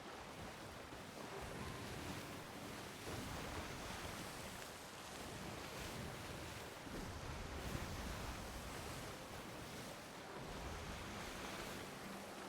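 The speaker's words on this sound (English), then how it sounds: "That's some big boy waves." Big ocean waves in a pirate-style video game, a broad, steady surf wash with gusting wind, fairly faint and continuous with slow swells, no talking.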